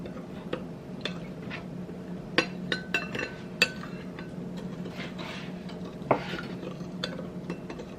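Low-sodium soy sauce stirred together with cornstarch, brown sugar, garlic and ginger in a bowl, a quiet scraping swirl broken by sharp utensil clinks against the side, faint and close.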